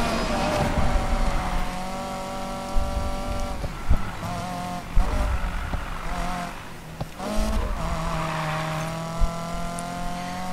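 Race car engine in Need For Speed Payback revving high under nitrous boost, a loud sustained whine with shifting pitch, gear changes, tire squeal and occasional impacts.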